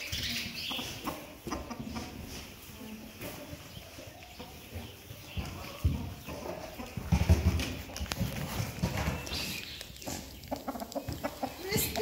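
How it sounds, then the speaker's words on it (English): Farm chickens of several varieties cluck and chatter around a barnyard over about twelve seconds, mixed with shuffling and hoof-like knocking, with occasional speech nearby. "And then we have a whole variations of different chickens."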